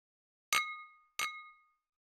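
Two glass bottles clinking together, two separate bright ringing chimes about two-thirds of a second apart, each decaying cleanly into silence.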